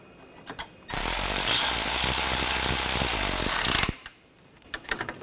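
A power tool drives screws on a 2013-2022 Buick Encore front bumper cover, a loud, continuous ratcheting whir for about three seconds, framed by a few quiet clicks and taps before and after.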